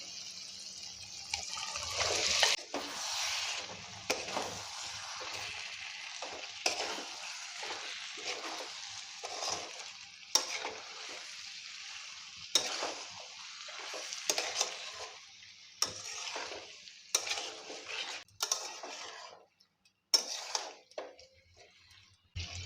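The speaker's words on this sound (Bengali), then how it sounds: "সাউর ও আলু মশলার সঙ্গে ভালোভাবে কষানো হয়ে গেছে" Fried potatoes and saur are stirred through spice masala in a pan, with irregular wet scraping and swishing bursts of stirring, some sizzle, and short pauses between strokes.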